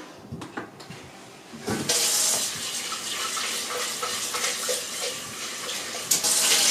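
Water from a tap pours steadily into a blender jar, a loud, close hissing rush that starts abruptly after a few quiet clicks and continues to the end.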